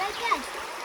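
A mountain stream flows near Kolomyia in the Carpathian foothills, giving a steady, close rush of splashing water with no break throughout.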